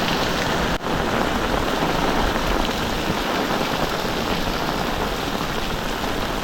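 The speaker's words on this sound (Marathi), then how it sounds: "सकाळपासून आहे ना पाऊस जोरदार चालू आहे" Heavy pre-monsoon rain pouring down in a village, a dense, steady, loud downpour filling the whole scene without a break, no voices.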